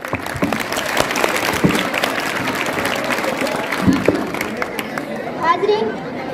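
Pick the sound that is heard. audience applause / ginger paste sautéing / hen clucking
audience applause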